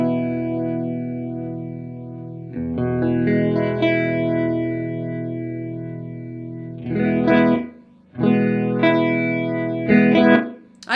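Electric guitar through an Alexander Sugarcube stereo chorus pedal with its feedback control turned up, sustained chords shimmering and swirling, then two fresh strums near the end ringing with wavering, echoing repeats; no voices.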